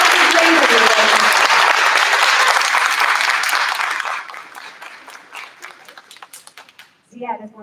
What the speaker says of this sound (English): let's give all these students a huge round of applause